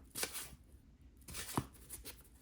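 A handmade Constantinople RWS tarot deck by Marco Benedetti is shuffled: two short, soft riffling bursts of cards, close and quiet, separated by a brief pause.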